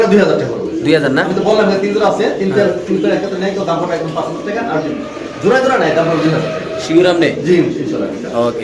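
Beauty pigeons coo steadily in the background while someone talks over them almost throughout, the soft throaty calls partly buried beneath his voice.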